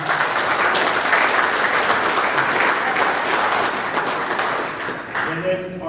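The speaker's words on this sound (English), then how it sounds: "let's give them a round of applause for doing that" Applause from a room of Rotary Club members at a meeting, a dense steady wash of clapping that holds for about five seconds, then thins and tails off near the end as a voice begins.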